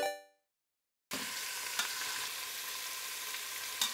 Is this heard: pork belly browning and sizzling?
yes